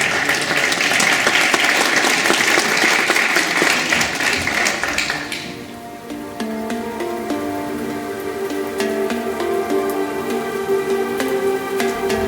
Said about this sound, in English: So give you a big applause again.